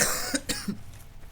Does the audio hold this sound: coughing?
yes